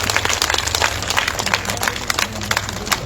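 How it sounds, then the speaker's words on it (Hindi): Sustained applause from an audience at a Shrimad Bhagwat Katha religious gathering in Uttarakhand, steady dense clapping continuing evenly throughout with a low hum of crowd noise underneath. "जब तक ये नीचे ना जाए ताली बजाते रहो।"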